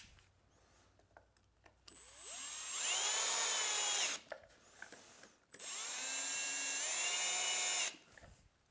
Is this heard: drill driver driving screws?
yes